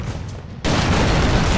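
In the video game Broforce, a burst of dense, rapid gunfire erupts suddenly and continues loud and unbroken after a quieter lead-in.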